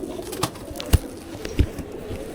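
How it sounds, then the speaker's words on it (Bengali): A male Arabian pigeon coos on a rooftop, a few low soft throaty calls spaced over a couple of seconds, close by, with no talking. "এটা হলো আরবি কবুতরের নর"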